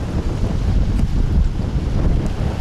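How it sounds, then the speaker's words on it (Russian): Big sea waves driven by a strong northeast wind crash and roar at the shore while gusts buffet the microphone in a loud, continuous rumble, with no voices. "Ну и волны."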